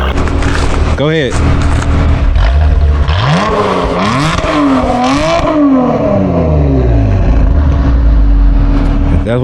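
V6 Dodge Challenger engine revving hard several times, the pitch sweeping up and falling back between throttle blips, loud and close throughout.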